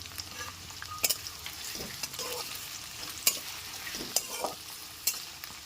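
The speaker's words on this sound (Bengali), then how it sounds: "মুলোটা একটু নাড়াচাড়া করার পর এর মধ্যে গাজরটাকে দিয়ে দিচ্ছি" Radish, potato and carrot being stirred as they fry in a pan, a soft continuous sizzle punctuated by repeated scraping and clicking strokes of a spatula, close and fairly quiet with no speech.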